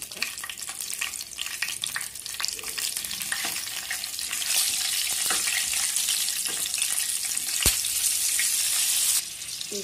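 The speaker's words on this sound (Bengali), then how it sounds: "তাহলে এবার আমি কাঁচা লঙ্কা আর কালো জিরেটা ফোড়ন দিয়ে দেব" Green chilies and black cumin seeds tempering in mustard oil left from frying pomfret, a constant crackling sizzle that grows louder and denser partway through, close and without talk.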